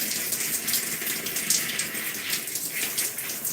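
Tap water gushes steadily and close by as conditioner is rinsed out of hair during a wash-and-go reset, a continuous broadband splashing rush with no talk over it.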